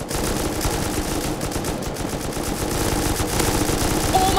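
Sustained loud automatic gunfire with heavy recoil in a shooter video game, a continuous rattling stream of shots with no break.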